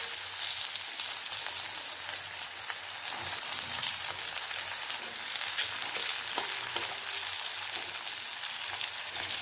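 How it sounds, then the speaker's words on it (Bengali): Chopped onions fry in hot oil with nigella seeds, a steady close crackling sizzle with soft stirring scrapes and no voices. "পেঁয়াজগুলোকে আমি হালকা লালচে করে ভেজে নেব।"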